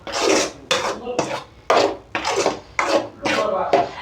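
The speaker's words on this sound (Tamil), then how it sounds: "நம்ம அரைச்சி வச்சுருந்த மசாலாவை கொட்டி இதை அப்படியே ஒரு கலரிக்கலாம்" A spoon scrapes and stirs thick ground masala for mushroom butter masala in a pan, in about eight steady rasping strokes, close and loud.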